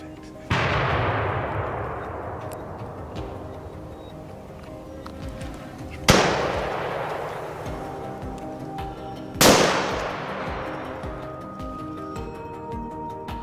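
Three loud gunshots fired while hunting wild boar on open grassland, each a sharp crack with a long rolling echo, spaced several seconds apart.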